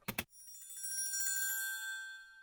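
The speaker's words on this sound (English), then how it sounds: "I also added this triangle," An orchestral percussion triangle sample gives two quick metallic strikes, then a shimmering, high ringing tone that sustains and slowly fades, quiet and on its own.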